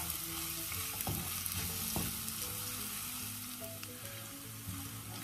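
Ingredients fry in a pan until fragrant for a rice dish, giving a steady sizzle with occasional stirring clicks and scrapes, close and moderately loud, with no talking.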